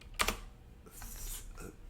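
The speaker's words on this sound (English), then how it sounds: "Okay, that was a lot of typing." Quick bursts of typing on a computer keyboard, a short clatter of keystrokes followed by a few softer taps, close and alone.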